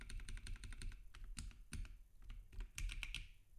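Rapid keystrokes of code being typed on a computer keyboard, close and steady with uneven bursts and a few louder key hits throughout.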